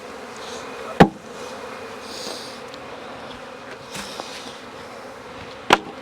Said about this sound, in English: this is where I can shake all the bees I want into my starter